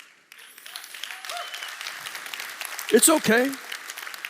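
Scattered audience clapping at a business talk, light and uneven under a speaker's voice, with a brief spoken phrase rising above it near the end.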